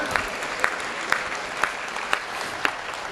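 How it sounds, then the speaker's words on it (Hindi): An audience at a school annual day function applauds the performers, continuous crowd clapping with a few louder sharp claps standing out at regular intervals. "तालियों से उत्साहवर्धन कीजिए हमारे कलाकारों का।"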